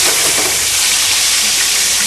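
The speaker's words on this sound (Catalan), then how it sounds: "Veieu que els llagostins ja estan força fregits" Prawns and monkfish tails fry in a pan, a loud, continuous close sizzle and hiss of hot oil with no talking.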